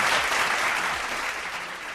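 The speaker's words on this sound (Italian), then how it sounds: "Facciamo un applauso a questi ragazzi," A short burst of steady applause from a group, many hands clapping evenly throughout, fairly close.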